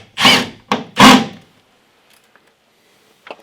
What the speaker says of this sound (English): We shall sink the screw into the corner.